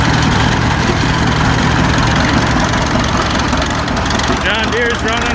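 Old farm tractor engines idle together, among them a John Deere, Case and Minneapolis, giving a loud, steady, knocking chug close by. Voices talk over the running engines throughout.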